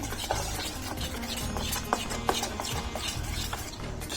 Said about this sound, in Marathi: हे छान आपण मिश्रण ढवळून घेऊया.